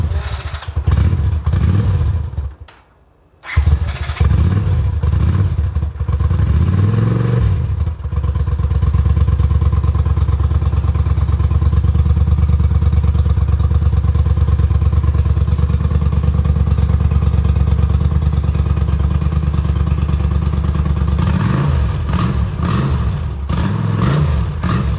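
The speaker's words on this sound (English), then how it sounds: "I have to hold the throttle open to keep it on." A first motorcycle with custom headers being built runs loud and steady with the throttle held open, its raw engine drone continuous after a brief stumble and cutout near the start.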